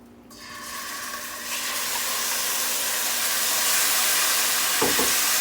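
Beef for a Korean stir fry hits a pan of hot oil and breaks into a loud, broad sizzle that swells and holds steady, with a brief clatter near the end.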